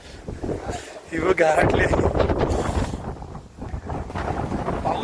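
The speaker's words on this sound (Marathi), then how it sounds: "पाऊस होता त्याच्यामुळे वारा पण आहे" Strong gusting wind buffets the microphone on a cold, exposed hilltop after rain on a trek near Choravane, Ratnagiri, a loud continuous roar that swells and eases, with a voice speaking briefly over it.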